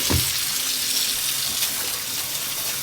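Soaked soldier beans get a quick rinse under running water in a kitchen sink, a steady broad splashing rush that continues unbroken for a few seconds with no voices.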